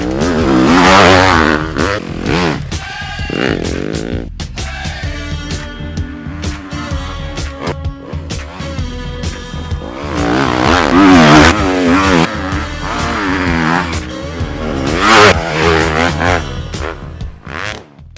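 A 2020 Yamaha 250 WRF enduro motorcycle is ridden hard, its engine revving up and down repeatedly, loud and close, with gear changes and brief lulls between rising bursts and no talk.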